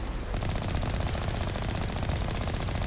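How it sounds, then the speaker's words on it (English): Gunfire in the video game Mass Effect, a dense, loud, continuous burst of rapid automatic shots with no pause and no talking. "Oh, someone's shooting."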